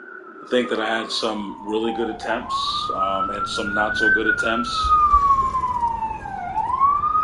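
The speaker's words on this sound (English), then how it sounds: "So I apologize for the sirens." Police sirens wail through New York City streets, a loud rising and falling tone that carries on beneath someone talking nearby.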